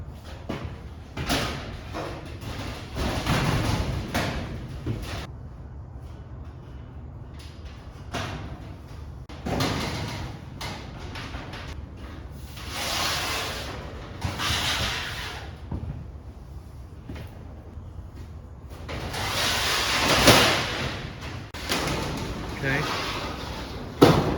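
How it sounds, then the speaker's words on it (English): Doors of a newly assembled Arrow Newport 10 x 12 metal storage shed sliding open and shut, giving a series of rattling metallic thumps and scrapes at close range, with pauses between movements. "doors open and close just fine."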